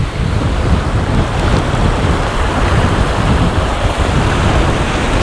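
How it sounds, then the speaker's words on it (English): A fast, heavily flowing mountain beck near Glenridding Dodd and Sheffield Pike in the Lake District rushes loudly and steadily close by, a dense continuous roar with no voices. "And the water is quite strong, flowing very heavily, so it won't be easy."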